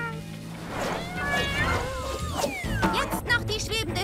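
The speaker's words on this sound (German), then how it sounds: "da sind noch mehr Kätzchen" Kittens meow repeatedly in high, rising and falling cries over a busy cartoon soundtrack with music and background effects, loud and close throughout.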